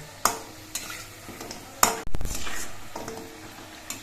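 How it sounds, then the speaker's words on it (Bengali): Steady hiss of gaja dough sweets frying in hot oil, with a few sharp stirring clinks and scrapes from a utensil. "গজাগুলো একটু লালচে রং করে ভেজে নিতে হবে"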